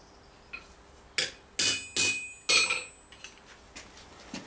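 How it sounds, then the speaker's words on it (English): A hammer taps a rivet out of metal armour, giving about five sharp ringing metallic strikes at irregular intervals, close and fairly loud, with no talking. "there's a couple of taps. We can see the rivet head starting to come away."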